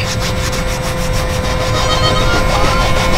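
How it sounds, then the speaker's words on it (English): A worn Scotch-Brite pad scrubs a car door panel up close, giving a continuous loud, gritty rubbing with a fast back-and-forth rhythm and no speech. "So I'm using a worn Scotch-Brite pad. Gets in there but doesn't scar it up too terribly much."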